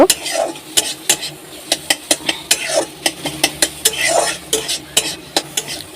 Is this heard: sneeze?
no